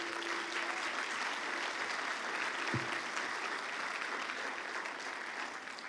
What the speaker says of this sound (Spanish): Dale fuerte ahí aplauso a Dios.